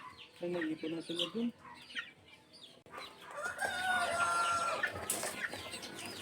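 Chickens in a farm scratch pen, newly moved from the brooder, make a busy run of clucks and chirping calls that grows denser and louder partway through, with some faint talk in the background.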